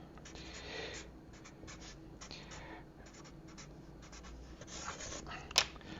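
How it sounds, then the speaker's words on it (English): A pen scratches out a note on paper beside an Evinrude/Johnson 9.9-15 hp outboard carburetor being rebuilt. The strokes are soft, close and broken into short bursts, ending with a sharp tap, and no one talks. "I'm going to write that down on something"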